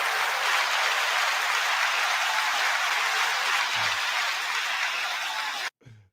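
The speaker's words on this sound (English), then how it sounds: "9 second applause" Dense, steady applause like a large crowd, heard evenly at moderate loudness for over five seconds before cutting off abruptly into near silence.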